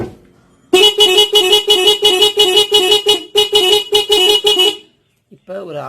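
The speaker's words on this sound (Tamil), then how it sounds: "இப்போ ஒரு ஆரன் அடிச்சிருக்கோம்." A Suzuki Access 125 scooter horn, fitted with a Roots Vibromini and a 7-in-1 melody maker, sounds a loud, rapid run of repeated electronic toots for about four seconds with a brief break. Someone speaks right after it stops.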